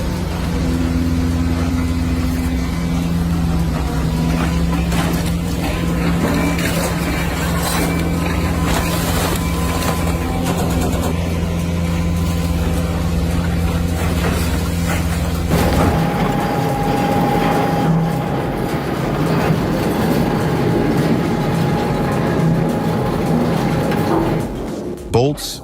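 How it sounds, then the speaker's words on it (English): An industrial shredder grinds through a whole engine block, a loud, steady mechanical roar with a low droning hum and constant clanking and rattling. The pitch and texture shift partway through and then hold to the end. "Not many machines can eat an entire engine block without slowing down."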